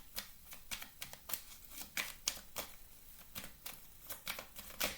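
Lenormand cards are handled and laid down on a table, a series of crisp, close papery flicks and slaps in an irregular rhythm, quiet overall with no talking.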